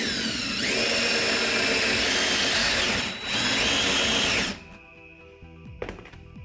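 A power drill fitted with a new bit bores a hole in a workpiece held down with pliers for a homemade camera lighting mount, whining loud and steady for about four seconds with a brief dip, then spinning down, followed by a few short clicks.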